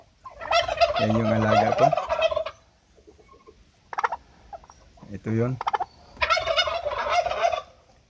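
Turkey hens on a backyard farm gobble in loud, rattling bursts close by, with quieter pauses between calls and someone speaking briefly in between.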